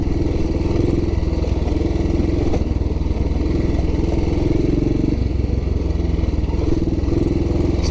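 A 1944 Ariel W/NG-based rigid trials motorcycle runs steadily while being ridden down a green lane, its single-cylinder engine thumping loud and close in a constant, even rhythm with mechanical clatter.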